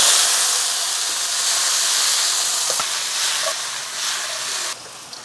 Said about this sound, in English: We're gonna blister these tomatoes real quick.